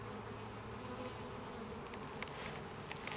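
Honeybees buzzing around an open hive during an inspection, a continuous faint drone with steady hum and occasional brief clicks, no talk.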